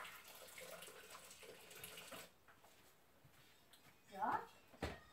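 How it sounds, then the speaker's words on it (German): Hot water runs into a Thermomix TM5 mixing bowl in a home kitchen, a faint trickling pour at first under a spoken voice, followed by quieter handling noises and a couple of soft clunks. "Ich habe hier einmal schon heißes Wasser und das mache ich auch jetzt rein"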